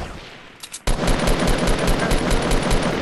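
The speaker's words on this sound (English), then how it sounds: "Another Gatling gun." A Gatling gun in Fortnite unleashes a continuous loud, rapid-fire stream of shots that kicks in abruptly after a brief spin-up and keeps hammering close-up without pause.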